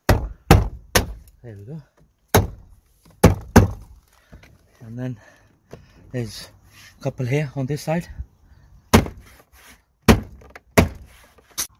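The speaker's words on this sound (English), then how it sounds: "what we're gonna do is just gonna bang the clips in" Plastic trim clips on a VW Polo door casing hammered into place during a side mirror replacement: a series of sharp, loud thunks in quick pairs and singles, with someone talking in between the knocks.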